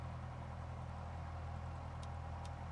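A Cessna 172SP's simulated engine at high throttle in X-Plane 10 gives a steady, loud, low droning hum with no change in pitch, heard close and alone, with a couple of faint brief ticks near the end.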